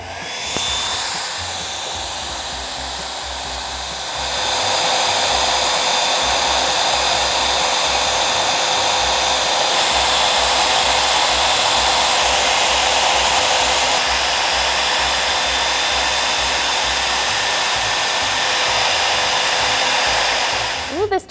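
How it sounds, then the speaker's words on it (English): A blow dryer running on high over crayons gives a loud, steady, broadband whoosh with a motor whine, stepping up in intensity after a few seconds and holding there until it cuts off at the end. "Now I'm going to grab the blow dryer, turn it to high, and you can watch what happens to the crayons."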